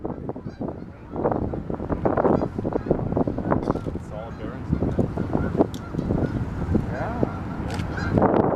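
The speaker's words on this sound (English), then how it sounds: "notice all the geese, they spill a little grain now and then, and so we have a very robust, if somewhat obese grain goose population" Canada geese at the Duluth harbor honk repeatedly in a loud, overlapping chorus close by, with a tour guide's voice and a boat's low rumble mixed underneath.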